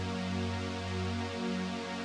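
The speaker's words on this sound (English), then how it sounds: "We're gonna grab the last chord of our verse chords." A big sustained synth chord, the final chord of a verse progression in a producer's loop, rings out alone as a steady rich tone with a low foundation, holding evenly for about two seconds.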